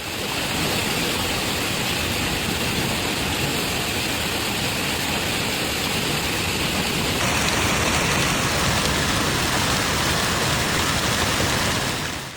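Heavy hail falling during a storm in Denver, Colorado, a dense, steady roar of countless stones striking the ground and surfaces, continuous and loud throughout with no voices.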